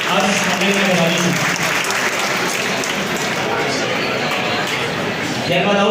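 An audience at a district police felicitation event gives a student a loud round of applause, a thick, continuous clapping that carries on throughout, with voices murmuring beneath it.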